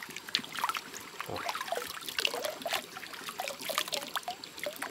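Clear, cold spring water trickles at a river source in a well-preserved area near Ipiaú, Bahia, a close, bubbling and splashing flow with constant small gurgles and no voices.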